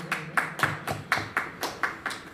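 An audience at a Marathi stage performance claps in praise of a singer's voice. Roughly nine distinct claps land in a steady rhythm, close and fairly loud, like a few hands rather than a full crowd, with no talk over them.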